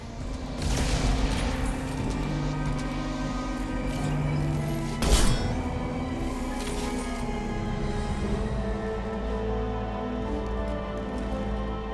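An impact shot fired in Mass Effect 2 cracks out sharply about midway, one loud single report standing out over a steady droning game background.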